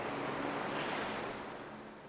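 Sea waves wash onto the white beach at Portonovo on the Conero Riviera, beneath a green hillside: a steady broadband surf roar, close and fairly loud, easing slightly toward the end, with no voices.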